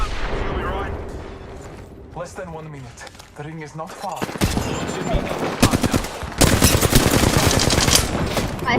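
Loud automatic gunfire in the Apex Legends video game, a dense rapid burst sequence in the second half, preceded by excited talking from players.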